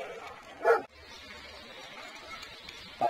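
Dogs barking on a street passed during a Saturday afternoon bicycle ride, one distinct nearby bark and a second starting at the end over quiet outdoor background.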